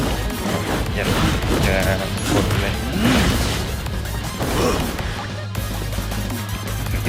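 Loud crashing blasts and rumbling explosions from a lava attack in One Piece Fighting Path burst in quick succession, dense and chaotic, with a voice talking underneath.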